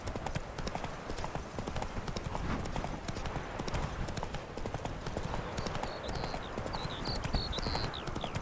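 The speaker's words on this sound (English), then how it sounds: "Run, Roach." A horse gallops in The Witcher 3 video game, a rapid, steady clip-clop of hooves pounding continuously and close, with faint whooshing ambience and a voice briefly heard underneath.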